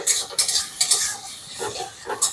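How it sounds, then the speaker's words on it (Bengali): Chopped onions with salt are stirred in hot mustard oil in a wok, a sizzling hiss broken by repeated scraping strokes of a spatula against the metal in an uneven rhythm, close and alone. "কড়াই সর্ষের তেল দিয়ে দিচ্ছি, পেঁয়াজ কুচোনো, পেঁয়াজ ভাজার সময় নুন দিয়ে দিচ্ছি"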